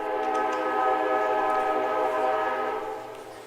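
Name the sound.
train passing near a baseball field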